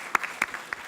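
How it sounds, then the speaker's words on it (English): Audience applause at a landmine convention gathering in Sri Lanka, heard as a few sparse, scattered claps with brief gaps between them, fairly quiet and without voices. "I want everyone to give you an applause"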